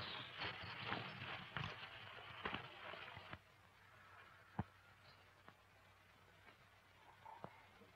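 Horses' hooves clip-clopping on hard ground, a quick run of loud irregular clops that thins to sparse, fainter single hits, with no talk over them.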